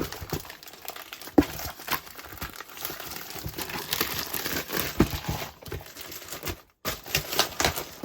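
Close, continuous crinkling and rustling of a plastic bag around a keyboard being unboxed, with sharp crackles and brief pauses as it is handled.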